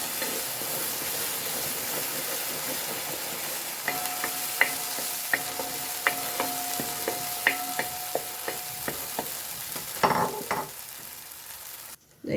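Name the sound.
stirring jackfruit pieces in ghee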